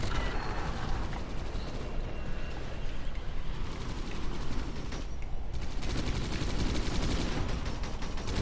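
Continuous machine gun fire rattles densely and loudly without pause in the Rise of the Reds real-time strategy game, with rapid overlapping shots layered over battle noise and a brief shift midway.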